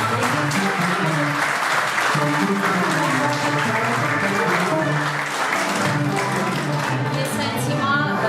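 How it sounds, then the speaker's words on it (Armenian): An audience bursts into warm, sustained applause at a live event, dense continuous clapping that stays loud throughout with a faint murmur of voices beneath. "մեր ջերմորեն ծափարենք,"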